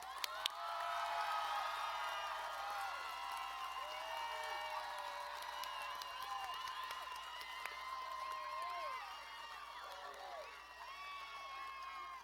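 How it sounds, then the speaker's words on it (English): Applause and cheering from the crowd at a Russell County High School 2020 graduation ceremony for a row of graduates, a sustained clapping wash with whoops and shouts, steady and fairly distant across the whole stretch. "Join me in giving row 4 a round of applause."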